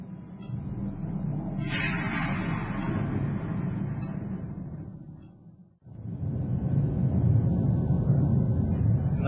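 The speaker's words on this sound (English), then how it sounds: "We can control the entire environment, create thunderstorms." Simulated thunderstorm inside a virtual reality flight simulator used for fear-of-flying treatment: continuous loud rumbling and rolling thunder filling the clip, with a brief dip near the middle before the roar swells back.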